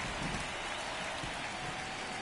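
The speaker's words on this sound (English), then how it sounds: "on this rainy day here in Cleveland" Steady rain falls during a Cleveland baseball game in MLB The Show 24, a dense even hiss of drops on surfaces that stays constant throughout with no voices.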